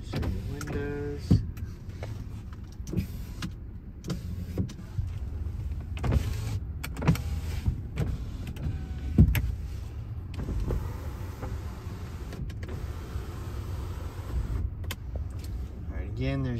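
Power windows on a 2014 Ford F-150 Platinum 4x4 pickup whir up and down in several short motor runs inside the cab, quiet and close, with clicks and soft knocks between them.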